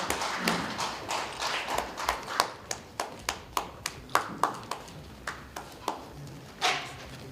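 Sparse applause at a March 1st Independence Movement anniversary and peace medal ceremony, a few hands clapping in a quiet, fairly even rhythm of distinct, separate claps across the stretch.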